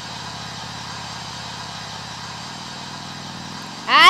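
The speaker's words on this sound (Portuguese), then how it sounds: "Espera que eu vou passar o secador." A hair dryer in the Roblox Bloxburg video game runs as a steady, buzzing motor drone close up, then a short, bright burst of sound cuts in at the very end.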